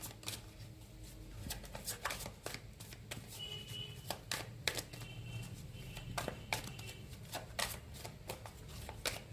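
Tarot cards are shuffled and drawn by hand, seven in all, giving quiet, close riffling and flicking with a rapid irregular patter of sharp papery snaps and no talking.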